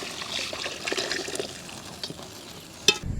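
Masala water pours and trickles into a pan for mushroom masala, a soft uneven splashing that ends with a small clink.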